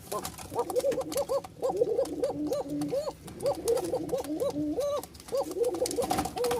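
Repeated rolling coos from a male Bashiraj pigeon courting a female, close and steady, coming in clustered bursts with brief pauses between them.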